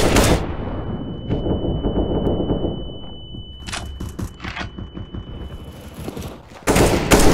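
Close, loud bursts of rifle and automatic gunfire in CS:GO, sharp cracking shots at the start, scattered shots and crackles in the middle, and another heavy burst at the end.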